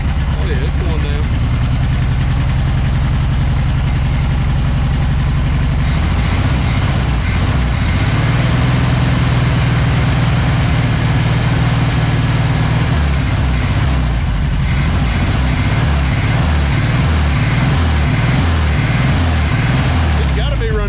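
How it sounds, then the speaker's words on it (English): A 1976 Volkswagen Beetle engine idles steadily after a revival, loud and close with a rough rhythmic pulse, its note shifting partway through while people talk over it. "It's gotta be running from the carburetor now."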